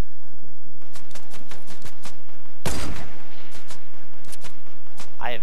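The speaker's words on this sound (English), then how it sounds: "Oh, I'm getting shot from the southeast." Gunfire in a shooting video game: a rapid volley of sharp shots, one heavy close blast at the midpoint, then more scattered reports, loud over the game's background noise.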